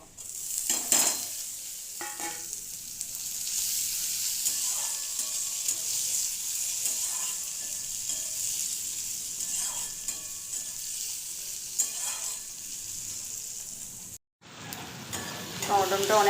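Chopped tomato frying in a hot pan, a steady close hiss and sizzle with intermittent stirring scrapes and clinks, dropping out briefly before resuming.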